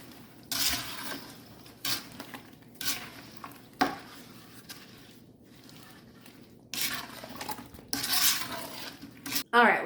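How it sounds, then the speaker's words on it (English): Strawberries and jalapenos dropped into a pot for jam, with bursts of clattering and clinking of utensils against the pot between quieter pauses, close by. "And I'm just going to put these into the pot."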